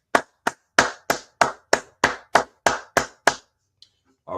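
About a dozen single hand claps in a steady, even rhythm, close and crisp, then a short pause before another sound begins, at the opening of an evening law-class live stream.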